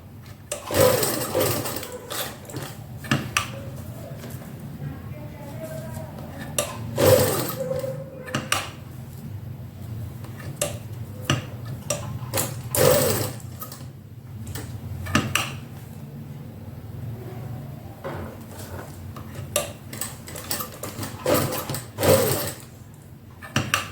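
A sewing machine stitches a round neckline in cloth in repeated short bursts of fast needle chatter, broken by pauses filled with nearby mechanical clicks and clattering handling sounds.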